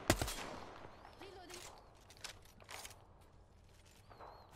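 Gunfire in the battle-royale video game Apex Legends, a sharp burst at the start followed by scattered shots and bursts of varying loudness, some distant, with faint game effects in between.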